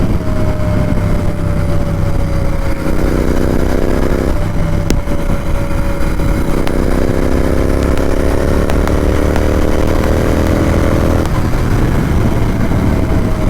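A Royal Enfield Interceptor 650 parallel-twin motorcycle accelerates hard, its steady loud engine drone rising in pitch through several gear changes, heard close with wind noise and no speech.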